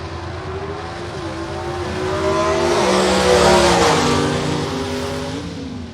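Powerful gasser drag race cars at Mt. Olive Dragway roar and rev hard as they launch, the whine rising in pitch and swelling loud before easing off.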